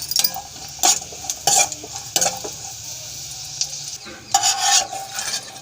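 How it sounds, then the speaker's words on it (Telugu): Cashews and raisins fry in ghee in a pan, a gentle sizzle under repeated scraping and clinking stirs from a spoon, close up with no talking. "జీడిపప్పు, కిస్మిస్ కూడా నెయ్యిలో వేయించి వేస్తున్నాను"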